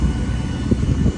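A Ryanair airplane's engines give a loud, steady low roar from close range, a continuous droning rumble with no voices over it.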